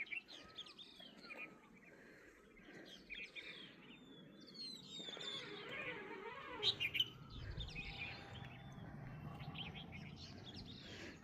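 Bulbuls and other songbirds sing along a narrow forest trail, with overlapping chirps, trills and whistles from several directions, moderately distant and fairly soft, over a low rustling background and no talking.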